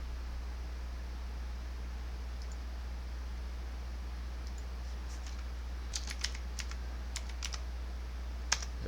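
Someone types a search on a computer keyboard, producing a quick burst of faint key clicks in the second half over a steady low hum and hiss.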